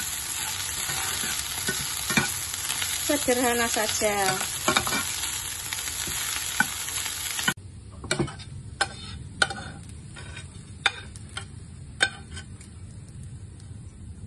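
Nasi goreng fried and stirred in a pan, loud steady sizzling with scraping stirs, then quieter sizzle under sharp repeated spatula taps; a voice speaks briefly.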